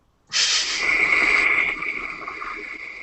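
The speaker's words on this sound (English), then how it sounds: "That was the crickets, by the way." Crickets chirp as a sound effect, a steady high-pitched trill over a soft hiss, loud and alone for about three seconds and easing slightly toward the end.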